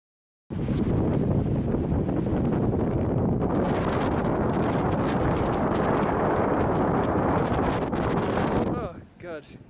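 Strong wind on the snowy Jungfrau mountain roars loud and constant across the microphone, a dense unbroken rush that dies down near the end as a voice briefly breaks through.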